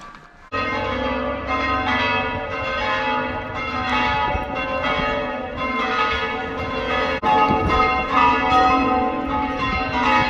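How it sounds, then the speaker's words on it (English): Church bells ring loudly and continuously at sunset, rich overlapping tones filling the air with a strong clang partway through, no voices. "the bells are ringing"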